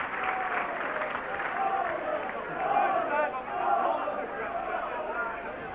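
Rugby league crowd at a Bradford v Widnes match applauding Paul Newlove as he leaves the field, a steady, wide wash of clapping and cheering that swells and dips throughout, with a commentator talking over it.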